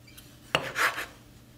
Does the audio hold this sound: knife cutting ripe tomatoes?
yes